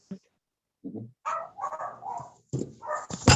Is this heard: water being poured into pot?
no